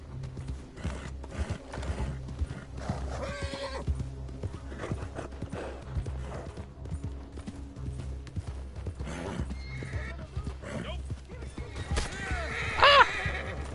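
Several loud horse whinnies ring out over clopping hooves in Red Dead Redemption 2 online, the neighs rising sharply near the end, close up with faint game ambience and no speech.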